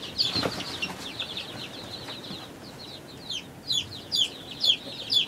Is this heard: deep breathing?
no